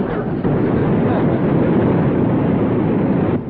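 A truck engine revs hard while its wheels spin in mud, stuck in place on a 1960s sitcom; a loud, steady roaring rumble holds for several seconds without a break.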